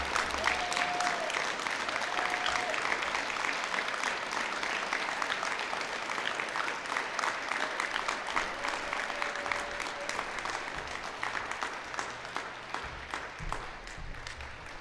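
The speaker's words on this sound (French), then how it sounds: "je vous invite à les applaudir chaleureusement" A graduation ceremony audience applauds, steady sustained clapping from a large crowd heard at a moderate distance and fading slightly toward the end.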